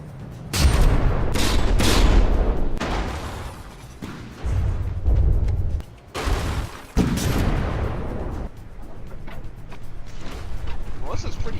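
HESH secondary guns fire on warships in the naval combat game From The Depths, a series of loud booming shots and impacts in bursts, with someone talking over the gunfire.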